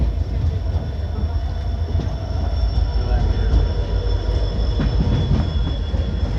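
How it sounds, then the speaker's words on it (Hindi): The Shalimar Express, running from Jammu Tawi to Barmer behind an EMD diesel locomotive, rumbles loudly through Phagwara railway station with a steady roar of wheels and brief squeals. "और ये है जम्मू तवी से चलकर बाड़मेर को चलने वाली शालीमार एक्सप्रेस"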